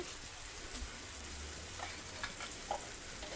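Spices roasting in a dry pan give a soft, steady crackle and hiss with a few faint stirring clicks, quiet and continuous, no voices.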